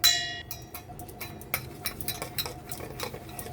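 Egg yolk and cornflour stirred with a spoon in a bowl for custard, starting with a bright clink, then light, repeated taps and scrapes of the spoon against the bowl, close and moderately quiet.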